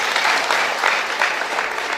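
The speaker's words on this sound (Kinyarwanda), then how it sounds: "Mukomere Imana amashyi" A church congregation at a wedding ceremony breaks into loud, sustained applause. It holds steady for the whole moment, with a faint murmur of voices underneath.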